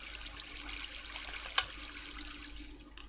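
Water flows steadily in a Minecraft farm built with a lever-controlled water extension, a soft continuous trickling wash with one brief click partway through, without any talking.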